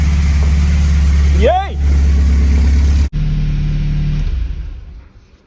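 A Porsche 924 engine idles steadily at about 1000 RPM on a cold start after sitting five months, a loud continuous low hum near the mic; a voice cheers briefly midway and the engine note drops in level near the end.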